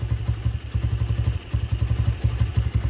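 A Venom X22 125cc motorcycle engine fitted with a Nibbi race carburetor idles up close, not yet warmed up, with a steady low chugging pulse and one brief dip in the rhythm.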